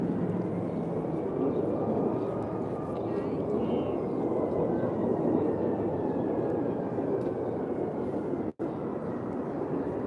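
Blue Angels jets flying past over the lakefront near Navy Pier, a broad, distant roar that swells and fades with a Doppler shift, with a voice talking over it.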